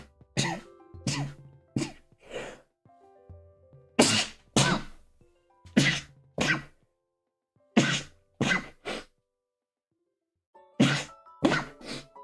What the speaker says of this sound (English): I have to sneeze, man.